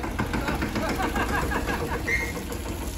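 A tractor engine runs steadily and close by during Holi celebrations, a continuous low rumble with a knocking idle quality filling the clip, with faint voices in the background.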